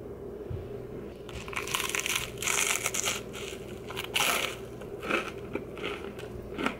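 Repeated crunchy bites into a bacon sandwich, close and loud, with crackling, crushing bursts arriving in several uneven waves over a steady low background hum.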